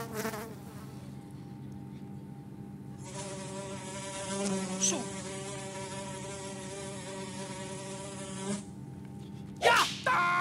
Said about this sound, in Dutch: was een vlieg, die zat je uit je slaap te houden